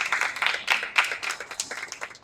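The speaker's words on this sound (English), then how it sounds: "give a round of applause to Sruthi." A short burst of uneven clapping from an event audience greeting a speaker, with individual hand claps standing out in a scattered, moderately loud rhythm.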